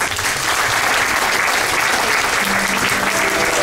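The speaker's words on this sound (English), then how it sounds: "a big round of applause for Captain Stig Betten and his senior offic" Sustained applause from a large crowd at a captain's welcome gala aboard the cruise ship Seabourn Odyssey, dense and steady clapping filling the whole stretch without a pause.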